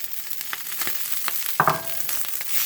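Diced onions and garlic hit a pan of cooking kale and set off a soft, continuous sizzle with faint scrapes, then a brief louder burst and a clatter partway through. The burner is low.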